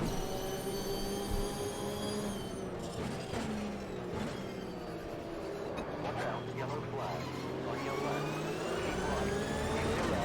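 Race car engine in the Automobilista PC racing simulator, a steady drone that rises and falls as it revs and shifts, running under continuous commentary.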